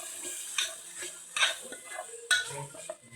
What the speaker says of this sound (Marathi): छानपैकी असं परतून घ्यायचं.